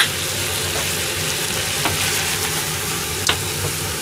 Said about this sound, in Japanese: みりんを一振り入れちゃおう。